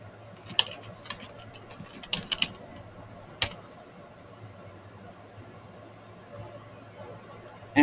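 Soft, sparse keystrokes on a computer keyboard enter a username during an online sign-up, a few quick clusters of clicks over a quiet room hum.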